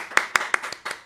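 Hand clapping at a talk-show style podcast recording, about six crisp claps in a fairly even rhythm, close and clear with no talk over them.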